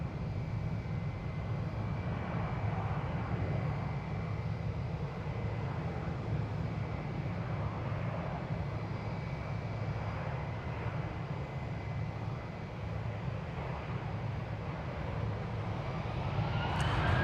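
An American Airlines jet departs Dallas/Fort Worth runway 36 right on its way to Puerto Vallarta, its engines a steady, broad roar that holds level throughout at moderate distance.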